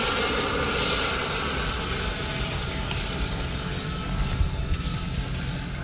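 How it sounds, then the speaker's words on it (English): An E-flite F-16 electric ducted-fan RC jet makes a close low pass, its steady loud whine and rushing airflow holding throughout with a slight fade toward the end. "let's go ahead and make our brake pass here, get the plane close to us"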